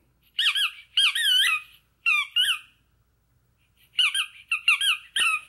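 A small mushroom-shaped baby teether toy squeaks in short, bright, high-pitched bursts, about seven squeezes in irregular pairs and singles with brief silences between, close and clear with no talk.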